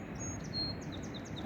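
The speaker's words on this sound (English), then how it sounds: "you can hear the birds" Small birds chirp and whistle in a wooded riverside spot beside a highway at Price Rapids, short high calls repeating over a steady soft background hiss, fairly faint and distant.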